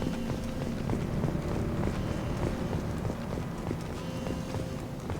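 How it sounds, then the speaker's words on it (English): Footsteps in the video game Mass Effect 2 sound as a steady, rhythmic series of close, heavy steps over a constant background rumble, with no talk. "I love the sound of the footsteps in this game."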